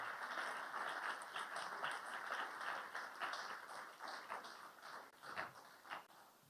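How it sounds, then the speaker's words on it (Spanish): Church congregation applauding steadily throughout, a dense wash of many hands clapping at moderate level with no speech over it, fading slightly toward the end. "Apláudele bien fuerte."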